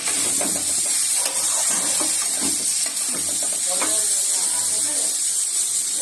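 Bitter gourd and potatoes fry in a pan with onion, black cumin and dried red chilli, a steady close sizzle and hiss broken by scraping stirs, while a voice talks intermittently over the cooking.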